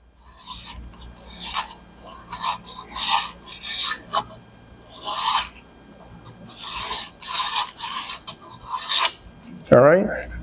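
Rasping scrape of 120 grit sandpaper cleaning out an engine freeze plug bore, quick back-and-forth strokes in bursts with short pauses, close and moderately loud, ending in a brief knock.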